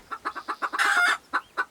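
Caged hens cluck in quick, evenly spaced bursts close by, with a brief louder squawking flurry in the middle before the clucking resumes.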